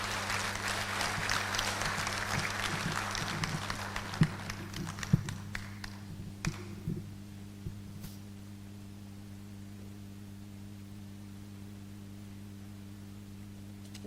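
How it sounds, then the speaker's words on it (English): Applause for a presenter at a conference on prosecutors and democratic elections, with dense clapping filling the first several seconds under steady hum, then thinning to a few scattered claps and fading to quiet room noise. "A round of applause for him,"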